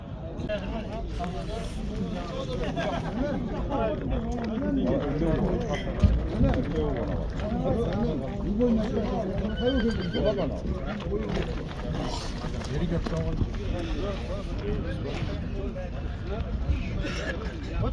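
Horses at a Kazakh horse market or sale, with clip-clopping hooves and movement over a steady din of crowd chatter and talk, loud and busy throughout with no clear neigh standing out.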